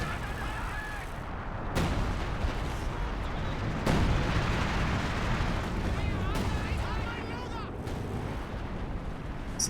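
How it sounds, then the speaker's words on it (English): A Calliope rocket artillery barrage in a strategy video game thunders in repeated booming impacts and whooshing launches over a dense rumble, while commentators talk over the top. "It's an amazing barrage from Solmeer, who's also in the Calliope."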